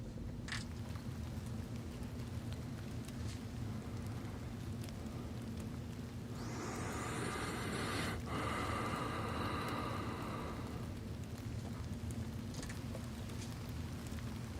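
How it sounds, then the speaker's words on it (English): Steady recorded rain plays as a nature-sound track, a dense continuous wash with a brief brighter swell in the middle, with no talking. "Here's the rain."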